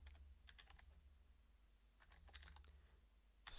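Keys tap on a computer keyboard in two short quiet bursts, entering a localhost address into a web browser, with a louder click at the very end.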